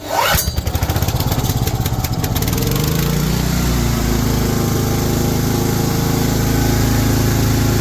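Small engine pull-started with a quick rip of the recoil cord, then catching and running with a steady, loud, buzzing putter close by, no voices.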